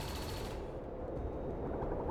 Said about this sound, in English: The enemy turrets are hammering the ship.